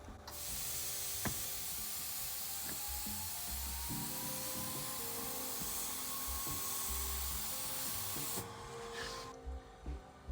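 An XLaserLab X1 Pro combination laser welder, cutter and cleaner cutting at a bench vise, producing a continuous, faint airy hiss with small clicks, which stops abruptly near the end.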